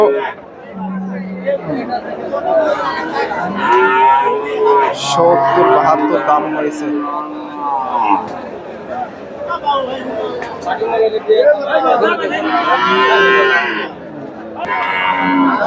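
Friesian cows and calves moo repeatedly at a busy Chandaikona cattle market, their lowing rising over steady crowd chatter and close, continuous talk.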